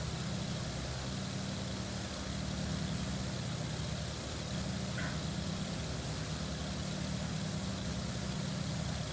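Aircraft engine running at a steady low drone, constant and unchanging with no pauses, fairly quiet throughout.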